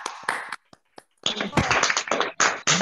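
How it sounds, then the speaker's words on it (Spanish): Applause for a newly graduated doctor of biological sciences after a thesis defense: bursts of clapping in short clusters with gaps, growing denser and louder toward the end, mixed with cheering voices. "brindarle un fuerte aplauso al flamante doctor en ciencias biológicas"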